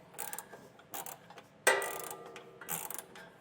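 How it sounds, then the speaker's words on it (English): A socket ratchet tightens trailer hitch bolts on a 2024 vehicle, producing short bursts of quick metallic clicking with a sharp clank partway through, heard up close with no talking. "you can use a socket and a ratchet. So we'll get these snugged down"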